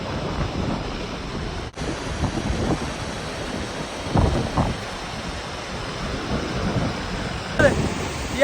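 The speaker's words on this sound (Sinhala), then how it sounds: "පේනවද පිටිපස්සේ දියල්ලක් තියෙනවා පේනවද ඔයාලට" Rushing waterfall in rain and strong wind at a scenic spot near Kabaragala, a steady broadband roar with gusty bursts and occasional thumps from wind buffeting the microphone.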